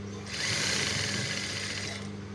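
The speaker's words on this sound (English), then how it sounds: "So I'm going to sew it on 1 inch." A sewing machine runs in one steady, continuous whirring burst lasting about a second and a half as it stitches fabric for cufflinks, with quiet hum before and after.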